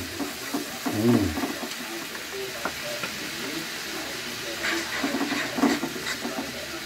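Curry with water bubbles and sizzles in a pan as it is stirred, with scraping stirs and spoon knocks over a steady frying hiss and a few faint voice sounds.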